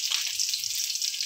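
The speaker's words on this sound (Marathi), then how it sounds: "कडक फोडणी बसायला पाहिजे कधीही" Cumin and garlic sizzle in hot oil for a tempering while cooking laal bhaji, a bright continuous crackling hiss with rapid pops, close and loud with no talking over it.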